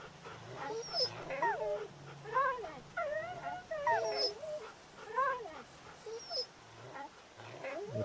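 A dog whimpers and yips repeatedly in Wasteland 2 Director's Cut, high thin whines rising and falling in short bursts, fairly faint and heard alone.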